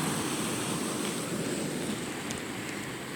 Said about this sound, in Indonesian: berkejaran dengan suara ombak